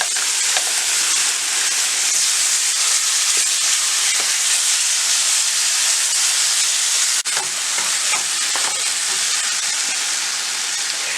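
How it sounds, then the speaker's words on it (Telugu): Tomato paste frying with coriander powder and turmeric in a pan, giving a steady, close sizzling hiss with occasional faint stirring scrapes and a brief bump partway through. "రెండు టమాటాలను ఇలా పేస్ట్ వేసుకొని ఫ్రై చేసుకోవాలి"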